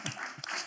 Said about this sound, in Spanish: vamos a aplaudirla